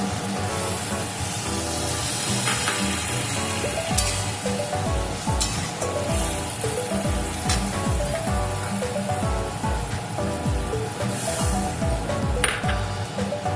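Water poured into a pan of frying jhinge aloo posto, made with ridge gourd, potato and poppy seed, sets off a steady sizzle with light metallic clinks of utensils against the pan.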